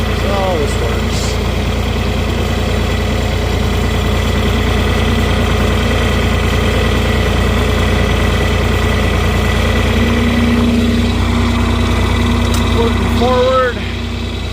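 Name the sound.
farm vehicle engine while planting sweet corn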